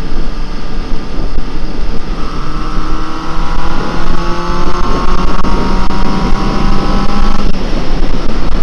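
A Honda CB750F motorcycle engine runs loud and close, its exhaust note climbing as the rider accelerates through the revs and drops back before building again, with no talk over it.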